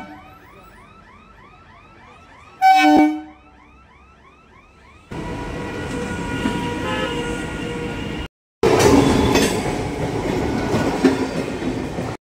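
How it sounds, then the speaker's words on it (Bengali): A train rumbles steadily as it pulls away from Kolkata's BBD Bag station, preceded by a short blast of its horn, with a broad continuous roar of wheels and carriages. "বিবাদীবাগ স্টেশন থেকে ট্রেনটা বেরিয়ে গেল।"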